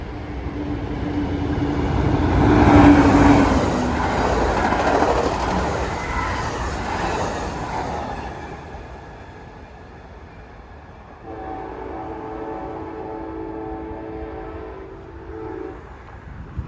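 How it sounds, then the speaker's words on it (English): An Amtrak passenger train passes southbound along a beach-side rail line, a loud rumbling rush that builds early with a horn blast near the start, then fades before a steady tonal hum returns near the end. "Amtrak followed it up southbound"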